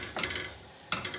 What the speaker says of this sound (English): frying off the chicken in the spices